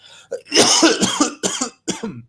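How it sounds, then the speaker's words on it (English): A man coughs several times close into the microphone, a loud harsh burst followed by shorter hacking coughs in a quick irregular sequence, alone with no talk. "I coughed into the microphone."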